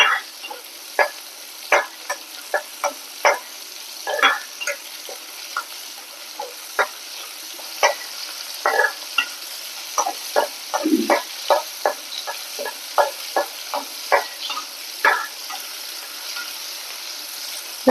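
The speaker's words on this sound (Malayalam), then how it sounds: "ഈ ഉള്ളി നന്നായിട്ട് മൂക്കൊന്നും വേണ്ട, ഒന്നിങ്ങനെ വാടി കിട്ടിയാൽ മതി" Onion sautéing in oil in a pan for a chammanthi, a steady soft sizzle under frequent irregular scraping and tapping of a stirring spoon, close and continuous with no talk.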